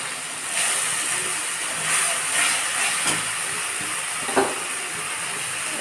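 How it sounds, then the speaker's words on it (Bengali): Spice paste with chilli powder, salt and turmeric frying in a pan while taro cooks, a steady hissing sizzle with a few soft stirring clicks, no talk. "একটু লঙ্কার গুঁড়া দিলাম, দিয়ে ভালো করে মশলাটাকে কষে নেব।"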